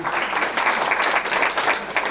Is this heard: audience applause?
yes